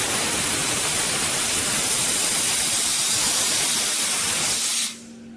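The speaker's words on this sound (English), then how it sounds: "Using specialized equipment, dry ice particles are sprayed onto the surface at high speed to remove dust, residues, and impurities." Dry ice blasting equipment sprays particles at high speed onto a product surface in a factory, a loud, steady broadband hiss that continues unbroken, then cuts off abruptly near the end leaving a faint hum.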